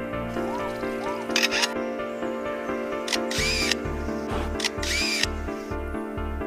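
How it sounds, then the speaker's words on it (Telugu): A rapid series of bright mechanical clicks and whirs, like a camera shutter firing, repeating in short bursts over a steady low hum. "ఫోటో తీస్తున్నప్పుడు వచ్చే సౌండు"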